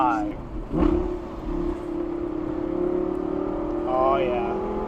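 A 2012 Lamborghini Gallardo LP 560-4 Spyder engine blips and rises in pitch through downshifts, with a steady drone underneath and sharp revving swells near the start and again toward the end, while someone talks excitedly over it.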